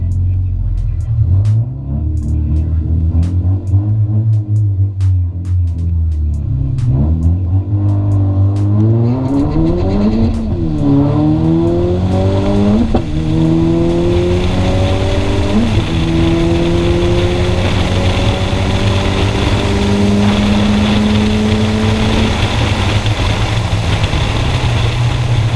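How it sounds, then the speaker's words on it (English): Nissan Juke drag racing a Volkswagen GTI on a strip at night, a loud engine idling, then revving hard and launching, rising through several upshifts as the drone builds and carries on at speed. "we're gonna race my friend that just bought his GTI"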